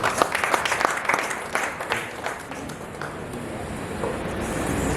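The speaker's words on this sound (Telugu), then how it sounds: "అందరూ కూడా చప్పట్లు కొడుతూ వారిని ఆహ్వానించారు." A congregation at Grace Lutheran Church applauds to welcome guests, a burst of many hands clapping that starts loud and settles into a softer, scattered patter.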